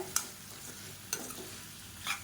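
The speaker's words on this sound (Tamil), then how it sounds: "இப்போ காய்கறி எல்லாமே நல்லா வதக்கியாச்சு." Mixed vegetables being stirred and sautéed in a pan for tiffin sambar, with soft steady sizzling and a few sharp scraping clicks of a spoon against the pan, close by with no talk.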